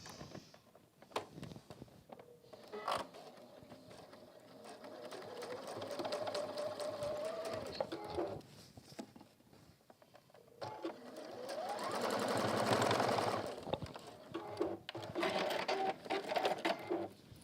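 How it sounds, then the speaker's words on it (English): Sewing machine stitching down the sides of water-repellent fabric, rapid mechanical whirring in bursts that speed up and slow with pauses, close and fairly quiet without talking. "So we're going to sew down both those sides to start off with."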